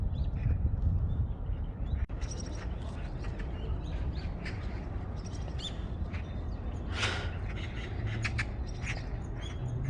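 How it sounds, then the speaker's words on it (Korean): Magpies squawk in harsh, scattered calls over a steady outdoor rumble beside a large forest in Yongsan, Seoul, some cries near and others farther off. "까마귀가 별로 없고 다 까치들이에요."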